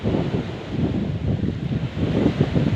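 Strong night wind on the coast during shore squid fishing: gusty, low rumbling buffeting against the microphone, rising and falling in uneven surges with a constant roar underneath.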